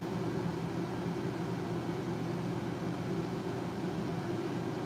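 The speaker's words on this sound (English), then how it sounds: "the noise you hear is the AC because I'm in an RV." Steady low droning hum of an RV air conditioner, constant and unbroken, with a soft airy hiss on top and no voices.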